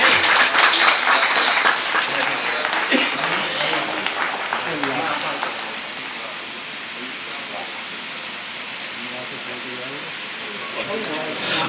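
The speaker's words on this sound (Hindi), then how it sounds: "जी जी, एक जोरदार तालियों से" Audience applause at a mushaira poetry gathering and honour ceremony, a dense burst of clapping that starts loud and gradually thins over about twelve seconds, with some voices mixed in.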